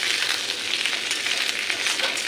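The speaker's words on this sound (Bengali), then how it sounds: "ফোড়ন দেওয়ার পরে সবজি দিয়ে এখন কষাচ্ছি।" Papaya, potato and green chilli sautéing in hot oil in a pan, a steady close sizzle with faint stirring scrapes throughout, no voices.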